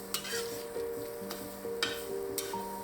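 Shrimp stir-frying with ginger, garlic and a Sichuan peppercorn and cumin spice mix, sizzling steadily while a utensil scrapes and taps the pan in several sharp clicks, with no talk.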